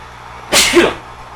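A single sneeze from a player character in the baseball video game MLB PowerPros 2008, a short sharp burst that rises and falls within about half a second, close and clear against quiet game background.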